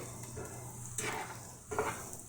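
Salted vegetables for white sauce pasta fry in a pan, a quiet steady sizzle broken by two brief scraping stirs, close by.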